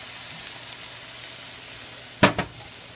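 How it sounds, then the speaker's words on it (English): A jar of tomato sauce hits a hot pan of cooked-down tomato paste for backpacking chili, giving a sudden loud sizzle burst near the end after quiet, faint ticks of cooking. "we're going to add the jar of sauce"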